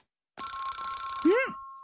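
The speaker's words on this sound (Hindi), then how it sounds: "ये जरूर शिजुका का फोन होगा।" Telephone ringing in a Doraemon cartoon, a single short electronic ring with a steady tone that ends in a quick rising chirp, loud and close with no other sound.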